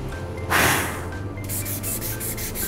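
Coarse 80 grit sandpaper rubs over a Nerf blaster's plastic shell in a loud close swipe, followed by a run of quick rhythmic back-and-forth sanding strokes.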